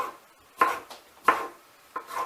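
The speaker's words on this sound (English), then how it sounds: "So he's going to be doing all the chopping for the relish." Vegetables being chopped for sweet pickle relish, three distinct knife strokes on a cutting board at a steady, unhurried pace, close and fairly quiet with no talking.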